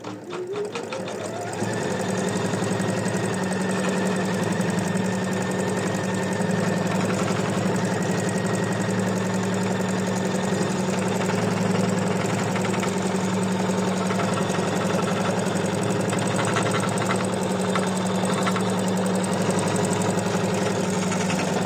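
An embroidery machine stitching a bookmark design, a fast steady mechanical whirring hum with rapid needle clatter running continuously and loud for the full stretch, no talk.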